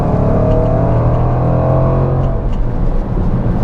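A 2021 Range Rover SVR engine roars loudly and steadily close by, its pitch holding high as it accelerates hard from 50 miles per hour.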